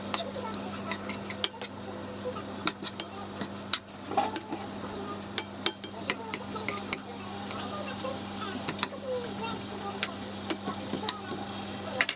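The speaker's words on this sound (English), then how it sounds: "So as you can see right here, it's all kind of frying together" Lamb cutlets fry in a pan with herbs, giving a soft, steady sizzle broken by frequent sharp clicks and taps of utensils against the pan, under a persistent low hum.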